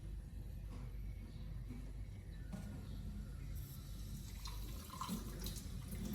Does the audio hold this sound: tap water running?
yes